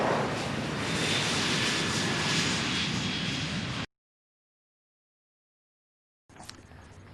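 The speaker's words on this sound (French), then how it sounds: "C'est à 6h50 que l'avion présidentiel a décollé de l'aéroport international de Njili à destination de Tokyo" The presidential airplane takes off from Njili International Airport, a steady loud broadband engine roar that cuts off abruptly, then after silence another burst of engine noise.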